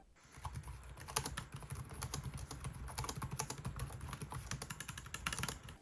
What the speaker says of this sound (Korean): 키보드 덱 자체도 단단한 편이라서 경쾌한 타이핑이 가능합니다